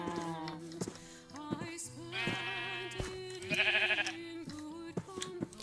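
Several Minecraft sheep bleat in repeated wavering cries, some overlapping, with one louder, higher bleat standing out midway, all close and clear.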